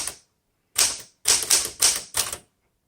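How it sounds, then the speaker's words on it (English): A 1966 Smith Corona Classic 12 manual typewriter types in sharp, loud, close bursts: one short strike, a pause, then four quick clustered keystrokes, with silence between. "vintage typewriter."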